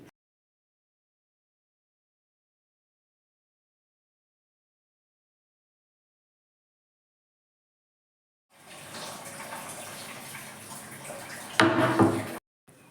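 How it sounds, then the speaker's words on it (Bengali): Water runs from a basin tap at home, starting abruptly after a long silence and streaming steadily for a few seconds at close range, with a brief louder splash before it cuts off. "আমাদের বাড়ির এই বিসিনের কলটা যে কবে ঠিক করবে জানি না"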